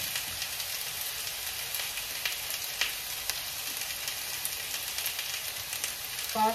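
Fried potatoes sizzle and crackle steadily in a hot pan, a constant bright hiss with small pops, heard up close with no talking.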